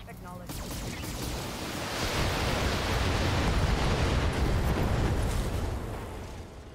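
Missiles launch and burst in the BattleTech video game, a loud, continuous roaring barrage of overlapping explosions that swells and then fades over several seconds.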